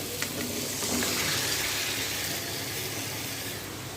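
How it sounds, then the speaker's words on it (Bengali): Marinated meat fries in a spiced onion masala that has begun releasing oil, giving a dense, continuous close-up sizzle with faint stirring and steam hiss throughout. "দেখো মাংসটা এখন কষছে।"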